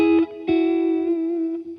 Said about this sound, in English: that is reverb, and it just sounds so beautiful.